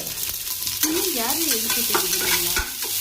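Mutton and chopped onions fry in a pan with a close, continuous sizzle, while a spatula scrapes and stirs through them in short strokes; no voices.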